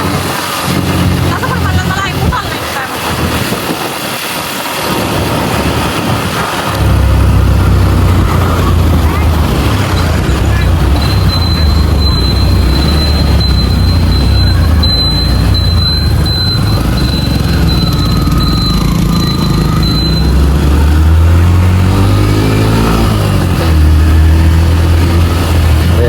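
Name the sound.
road traffic with car engines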